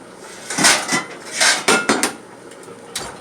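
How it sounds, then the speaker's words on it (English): A black skillet is picked up and handled in a kitchen. There are several close metallic clanks and knocks in uneven bursts, then quieter scrapes toward the end. "now I'm going to take my skillet"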